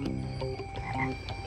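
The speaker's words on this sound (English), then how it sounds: "including the tomato frog" Repeated low croaks of a tomato frog in a steady, fairly continuous run, close and moderately loud, with no talking.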